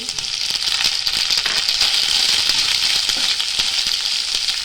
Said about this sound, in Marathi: आता आपण त्यात ना घेतलेला एक वाटी नारळाचा किस तो पण घालून घेऊ